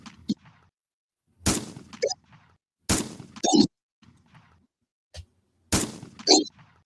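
Gunshot sound effect: four sharp, loud cracks spaced more than a second apart, each trailing into a brief metallic rattle, with quiet gaps and faint murmurs between them.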